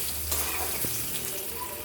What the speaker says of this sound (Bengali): ডিমগুলো ভালো মতো ভাজা যায়